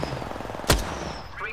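A single sharp gunshot from a first-person shooter video game cracks out loud midway, over a low background hum with faint chatter.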